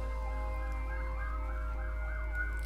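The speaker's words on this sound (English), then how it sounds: "Yo, some sirens going on outside." Emergency-vehicle sirens wail outdoors, their pitch sweeping up and down in overlapping cycles, steady and moderately loud over a constant low hum without talk.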